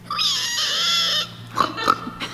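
A voice actress does a pig imitation, with a long, loud squealing oink of about a second followed by several short grunting snorts, close and alone.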